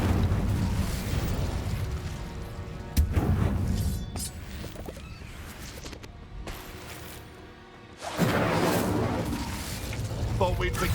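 Incendio fire spells roar in Hogwarts Legacy, two dense, loud bursts of crackling flame and blast noise with a quieter stretch between them, amid combat sounds.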